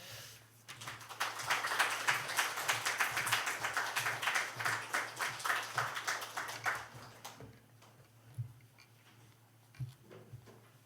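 Church congregation applauding to welcome the pastor, a sustained wave of many hands clapping in steady rhythm for several seconds before fading to a few scattered claps.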